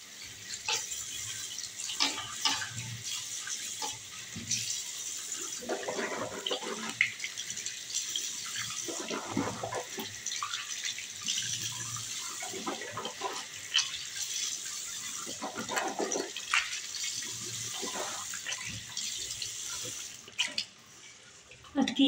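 Tap water runs steadily into a sink while a mouth is rinsed after brushing teeth, a continuous splashing wash with gurgles and brief louder surges, briefly breaking off near the end.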